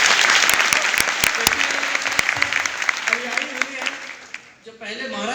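Audience at a training session in India breaks into loud applause, many hands clapping steadily before it tapers off near the end.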